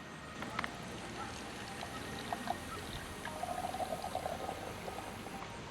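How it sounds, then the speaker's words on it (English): Filtered water squeezed from a Sawyer Mini pouch into a glass, a faint trickle and splash that runs in short bursts and then steadier pouring, close by with a steady background hiss. "I'm going to squeeze it out into the glass"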